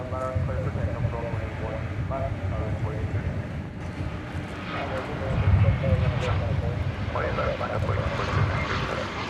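A Kalitta Air Boeing 747-400 cargo jet passes at Dallas Fort Worth airport, a continuous loud engine roar that swells midway, with a voice talking over it.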